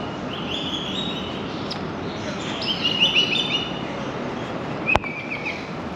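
Birds call inside the Hong Kong Park aviary, with chirps and tweets scattered over a steady background hum and one sharp click near the end.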